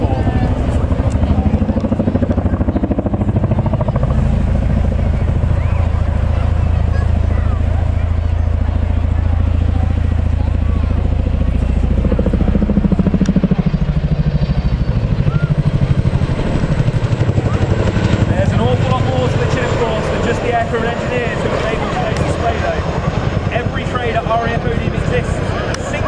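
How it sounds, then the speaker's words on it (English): A Chinook helicopter makes a run-in and break at an Armed Forces Day airshow display in Falmouth, Cornwall, its loud, steady rotor and engine roar filling the whole stretch, with a commentator talking over it throughout. "The crew are now positioning the Chinook for a run-in and break."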